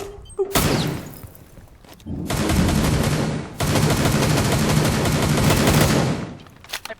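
Long bursts of rapid video game gunfire, loud and close, broken by short pauses, with a brief single shot at the start and faint voices in the gaps.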